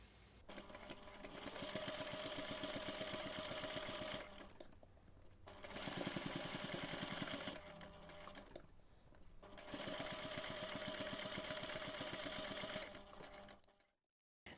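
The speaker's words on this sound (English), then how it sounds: "we can take this to the sewing machine and we're going to stitch 2 millimeters, an 1/8 of an inch from the edge around all sides" Sewing machine stitching fabric for a Santa hat ornament close to the edge, a close, steady mechanical whir running in three long bursts with brief pauses, stopping near the end.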